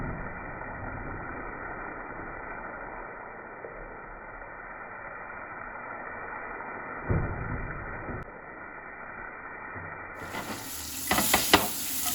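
Prawns sizzle steadily in a pan of butter and garlic, a soft even hiss that runs throughout, with a brief louder swell near the middle and a burst of brighter, crackling sizzle and clatter as they are tossed toward the end.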